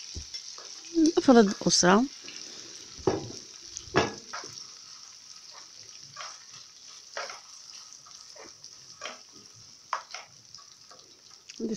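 Shrimp hit a hot pan and fry with a steady sizzle, with stirring scrapes and clinks scattered through and a burst of louder activity early on, while someone speaks briefly.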